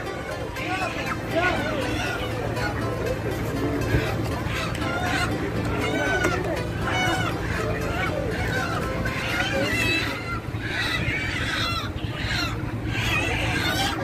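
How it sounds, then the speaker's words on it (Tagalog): Chickens cluck and a rooster crows amid the steady hubbub of a busy Riyadh market, with crowd chatter and voices talking throughout. "Bili kami ng manok."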